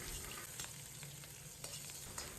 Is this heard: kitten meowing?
no